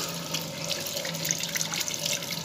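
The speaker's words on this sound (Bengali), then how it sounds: "হাত ধুয়ে নিচ্ছি" Hands washed under a running tap, a steady close rush and splash of water with soft hand movements throughout, no talking.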